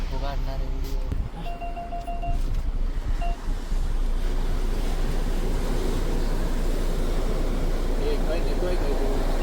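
High-tide sea waves crash and churn in a loud, unbroken roar, with heavy wind buffeting the microphone and a brief voice near the start.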